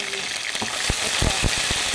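Onion with ginger garlic paste fries in a pan, a close crackling sizzle broken by sharp scraping stirs and clicks at a quick, uneven rhythm.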